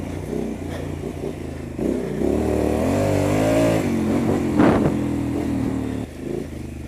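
Triumph Scrambler motorcycle with a Vance and Hines exhaust revving hard while riding, a loud, close engine roar that climbs and falls in pitch through several surges, with a brief clattering burst near the end.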